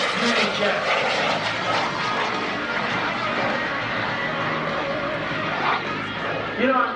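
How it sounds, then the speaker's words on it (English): The SubSonex Mini Jet roars past on a low photo pass at an airshow, a loud steady jet rush that holds throughout with crowd noise underneath. "There's the photo pass. Tom Larkin, the SubSonex Mini Jet."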